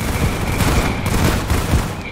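Massed gunfire during a 300-player Roblox raid, a dense, loud fusillade of overlapping shots and bursts with no break in the racket.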